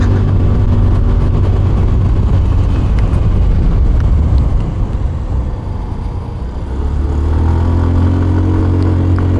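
A MotorStar EasyRide 150N motorcycle engine drones steadily and loudly up close while climbing uphill, its pitch climbing and straining as it pulls, with wind rushing over the microphone.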